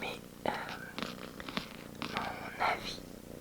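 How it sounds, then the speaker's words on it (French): A kitten purring while seeking cuddles on a quiet morning, a close, continuous rumbling purr with soft rustles and light movement throughout. "on est dimanche matin et j'ai un chaton qui veut des câlins."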